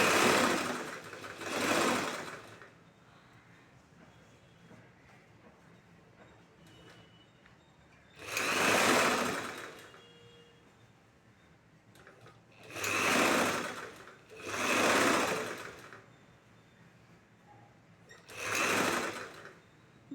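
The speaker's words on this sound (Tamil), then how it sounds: "2 துணியும் சேர்த்து வச்சு 1/4 இன்ச் அளவுக்கு தைச்சிக்கணும்." A sewing machine stitches two pieces of blouse fabric together in four or five separate loud bursts of rapid whirring, with quiet gaps between the runs.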